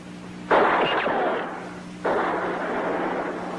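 Two loud, sharp gunshot-like blasts about a second and a half apart, each followed by a long, rumbling decay, with no voices.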